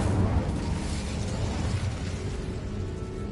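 Crackling, roaring flames from a fire spell in Hogwarts Legacy burst out with a rumbling, explosive wash of noise that slowly thins and settles, fairly quiet overall and without talk.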